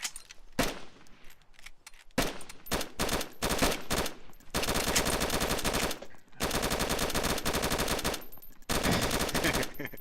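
Sustained automatic gunfire in the survival video game DayZ, with long loud bursts of rapid shots broken by brief pauses, close and dominating throughout.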